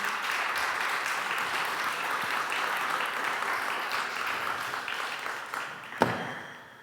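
An audience at the GRIDTech Conference 2022 in Brussels gives a sustained, even round of applause that carries on for several seconds, then thins out and fades after one last sharp clap.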